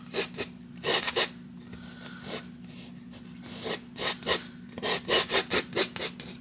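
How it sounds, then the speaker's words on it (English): Painting knife pressing and scraping paint across a canvas in repeated short strokes, a dry rubbing rasp in uneven bursts, close and clear with a steady low hum underneath. "I'm just pressing the knife in, sort of moving it around, scraping off the excess."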